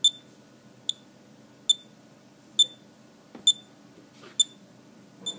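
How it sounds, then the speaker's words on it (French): A Loc8tor locator tag beacon emits short, sharp electronic beeps at a regular pace, about six clear chirps over a quiet background. "Là on entend vraiment bien la balise biper."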